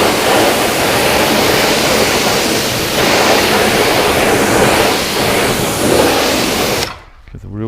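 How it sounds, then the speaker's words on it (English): Loud, close hiss of a pressure water spray rinsing the wheels of a Porsche GT3 RS, a continuous rushing roar that cuts off abruptly near the end. "Give the wheels a good rinse."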